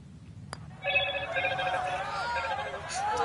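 A telephone rings with an incoming call, a bright warbling electronic ring that starts after a sharp click and repeats close and loud, with a voice talking at points.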